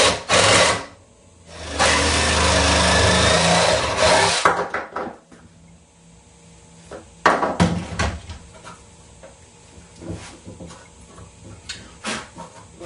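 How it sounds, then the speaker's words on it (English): A Sawzall reciprocating saw cuts through a skull for a European mount in two loud, harsh buzzing bursts, followed by quieter knocks and handling sounds nearby. "I'm going to use a Sawzall just faster."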